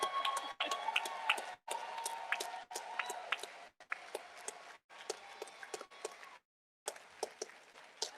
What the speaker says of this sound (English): I want y'all to keep clapping